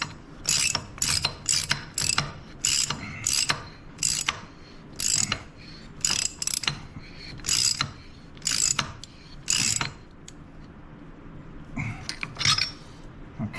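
A ratchet wrench clicks in quick bursts, about a dozen rapid ratcheting runs separated by short pauses, while a bolt is tightened on a 2020 Harley-Davidson Lowrider S chain drive conversion, close and crisp, with lighter clicks trailing off at the end.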